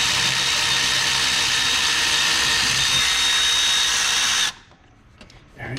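An air ratchet whirs loudly and steadily up close while removing a starter bolt on a 2015 Chevy Impala with a 3.6L engine, then cuts off abruptly, leaving quiet shop sounds.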